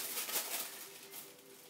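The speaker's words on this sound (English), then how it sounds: "kind of squawking at me because I'm getting too close" A pet bird squawks close by indoors, giving a few rough, breathy calls in quick succession that fade into quieter chatter, with no voices over it.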